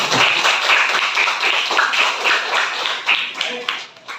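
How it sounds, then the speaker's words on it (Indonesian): Students in an Indonesian classroom clap together in a steady burst of applause that holds for several seconds and then tapers off, with a few voices mixed in. "kasih tepuk tangan buat kita semua."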